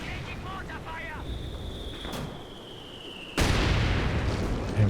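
A mortar shell explodes in Company of Heroes 2, a sudden broad blast cutting in after a stretch of battlefield ambience and continuing as a loud sustained roar to the end, while a voice talks over the game.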